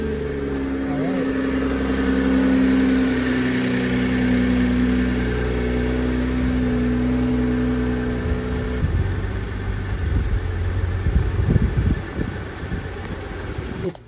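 Rebuilt Toyota Supra engine runs at a steady idle with a low droning hum and tonal whine, then rougher clunks and rattles as the car starts to move, fairly loud and near.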